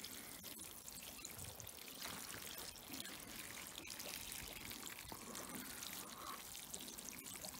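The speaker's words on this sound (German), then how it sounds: "mit etwas Abstand so nach und nach eingießen, dass das Substrat ausreichend Zeit hat, Wasser aufzunehmen." Water poured slowly onto plant substrate and sphagnum moss while potting a Crataegus laevigata hawthorn, a faint, steady trickle and dribble soaking in without a break.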